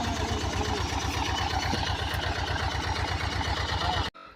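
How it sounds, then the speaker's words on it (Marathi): Tractor engine running in a farm field while it drives a seed drill, a steady mid-to-low rumble with regular pulsing throb, loud and close, continuous for about four seconds before cutting off abruptly. "आणि ट्रॅक्टर चालू आहे, काकरणी चालू आहे"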